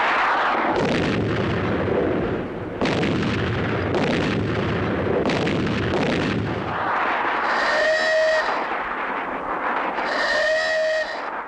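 Heavy artillery guns fire in order, five shots at a 4000-metre target, in a steady series of booming blasts, each followed by rolling echoes, loud and sustained.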